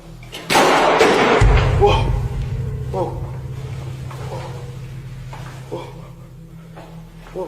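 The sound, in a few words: door slamming shut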